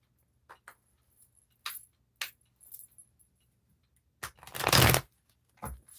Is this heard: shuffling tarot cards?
yes